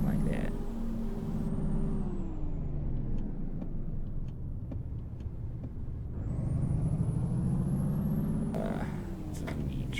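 Truck engine running at night on a drive from Redding to Santa Cruz, a loud steady low rumble with rising and falling revs through gear changes, no air brake hiss evident.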